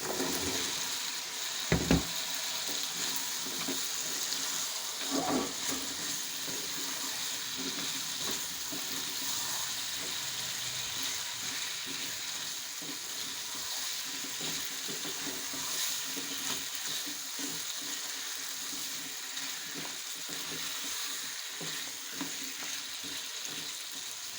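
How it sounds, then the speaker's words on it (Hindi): Chopped potatoes fry in a spiced masala in a pan for aloo shorba, a steady soft sizzle with an occasional stir and a sharp clink near the start, no talking. "एक से 2 मिनट के लिए हम इनको भी भून लेते हैं मसाले में।"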